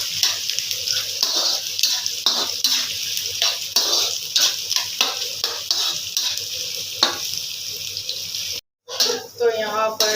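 Four onions fry in a pan for a bhindi chicken dish, giving a steady close sizzle broken by repeated stirring scrapes, with brief running water near the end.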